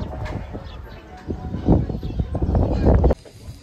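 White pigeons coo in Iloilo, low soft throaty coos repeating close by amid wind buffeting and other outdoor sounds, ending abruptly.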